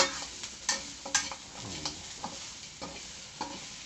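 Pork bones and garlic fry in a pan, with a continuous close sizzle broken by repeated scraping strokes of a spatula as the pieces are stirred.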